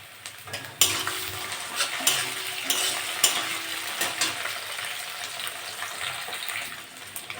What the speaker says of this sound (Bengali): চিংড়ি মাছটা ভাজা ভাজা হয়ে গেছে